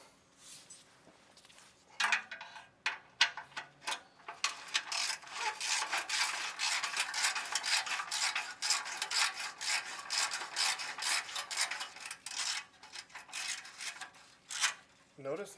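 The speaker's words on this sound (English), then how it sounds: "we'll watch as I release the two 6mm hex bolts from the retaining straps" Two rusty 6mm hex bolts being loosened from the exhaust retaining straps of a 2003 Porsche 996 Turbo after a penetrant soak, heard as a close, gritty rasping and rubbing of metal in steady strokes.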